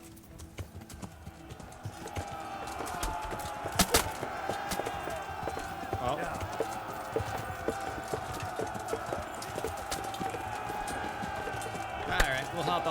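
Horse hooves clip-clop steadily in the medieval role-playing game Kingdom Come: Deliverance, a fairly close, continuous rhythmic trot under ambient game noise, with a brief voice exclamation.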